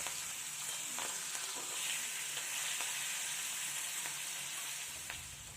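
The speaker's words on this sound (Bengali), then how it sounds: "মাছের মাথাটাকে এভাবে উল্টে পাল্টে কড়া করে ভেজে নেব।" Fish heads fry crisp in mustard oil in a pan, giving a constant, close hissing sizzle with faint taps and scrapes as they are turned, easing slightly toward the end.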